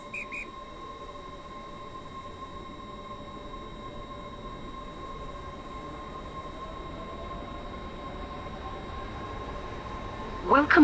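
Train running in the video game Stepford County Railway: a steady low rumble of a four-coach train in motion under a recorded onboard announcement voice, with a brief louder chime or whistle burst at the very end.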